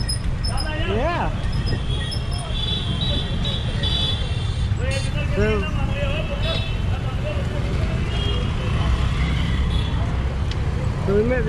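Busy street traffic in Amritsar heard from a bicycle tuk-tuk, with a constant loud roar of engines, horns and passing vehicles, and people talking nearby throughout.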